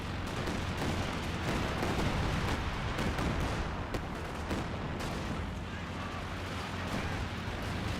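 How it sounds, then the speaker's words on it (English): Rocket barrage on a Company of Heroes 2 battlefield, a dense continuous rattle of launches and impacts with dull thuds, steady and fairly faint, voices faintly present underneath. "Here comes Clive here, rocket barrage"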